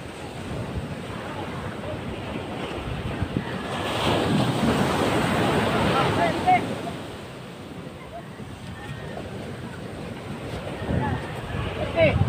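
Big waves roll and crash onto a beach where fishing boats are hauled up, a loud continuous surf roar with wind buffeting the microphone and people talking over it.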